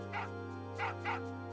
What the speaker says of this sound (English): That is a dog that I haven't tried to pet.